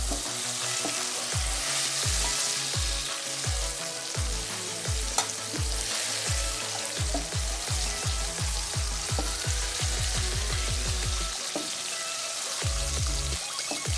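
Steady crackling sizzle of masala frying in a pan over low gas, with rhythmic low scraping knocks from stirring throughout.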